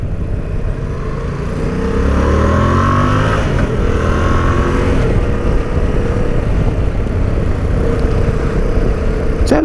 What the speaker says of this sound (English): Sounds great, the little engine on this.